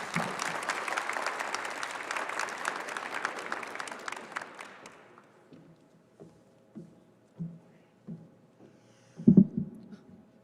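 An audience at a commencement ceremony applauds a speaker, a dense wash of clapping for about five seconds that fades out, followed by scattered faint thumps and a louder bump near the end.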